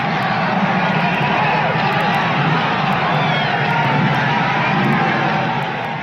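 A large crowd of Quebec independence supporters massed outside city hall cheers and shouts continuously, a dense roar of many voices at steady loudness, fading slightly at the end.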